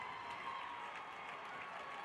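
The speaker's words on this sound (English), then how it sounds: "His first basket since that first quarter brings the Patriot crowd to life here" A high school basketball crowd cheering and applauding after a two-handed slam dunk in a regional boys tournament game, a steady, moderately distant roar of voices and clapping in a gym.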